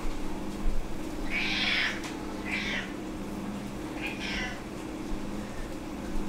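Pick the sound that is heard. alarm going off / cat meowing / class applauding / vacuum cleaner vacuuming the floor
cat meowing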